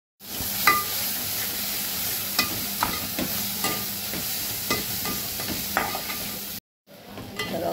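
Onion, green chilli and ginger-garlic paste frying in a pan for pav bhaji, a steady close sizzle broken by repeated clicks and scrapes of a spoon stirring, with a short drop to silence near the end.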